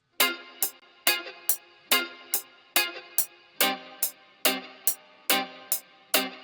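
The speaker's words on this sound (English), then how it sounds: "We're going to start with some guitar chords that sound like this." Clean guitar chords strummed in a steady repeating rhythm, each sharp attack ringing briefly before the next, close and fairly quiet with no voices.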